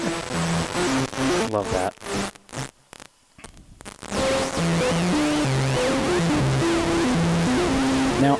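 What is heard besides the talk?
Schlappi Engineering Interstellar Radio module regular output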